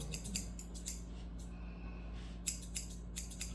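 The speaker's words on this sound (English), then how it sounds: "Always get your scissors, y'all. Get your scissors." Salon scissors snipping hair during a haircut, close and crisp, with quick clusters of metallic snips, a pause, then more rhythmic cuts, no talking.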